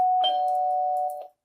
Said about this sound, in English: Let me get a doorbell.